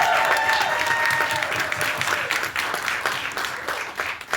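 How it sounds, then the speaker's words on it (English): A film festival audience applauds, a dense, full round of clapping from a large crowd that starts loud and gradually thins and softens toward the end. "I think we should get another round of applause."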